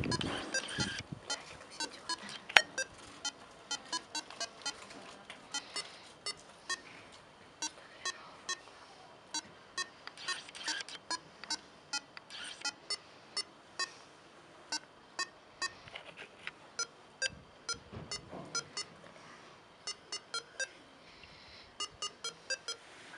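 Intercom keypad beeps pick out the melody of a song, a quick run of short bright electronic tones in an irregular tune-like rhythm, close and clear over faint background noise.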